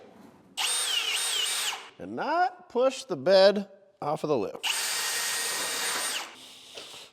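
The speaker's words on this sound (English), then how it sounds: "So first thing we're gonna do is take our 11/32 drill bit. We lost our hole for our trim, so we're gonna drill a new hole." A power drill with an 11/32 bit bores a new trim hole in a Chevrolet C10 squarebody shortbed truck bed, two steady high-pitched runs of about a second and a half each, with someone talking in the gap between them.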